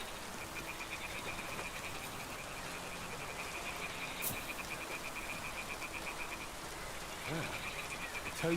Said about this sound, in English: Toads are croaking here.